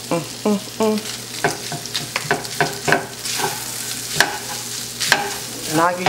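A spoon stirs flour into a pan of hot fat for scratch gravy, making repeated scraping strokes over a steady sizzle, close and fairly loud. A voice speaks briefly now and then.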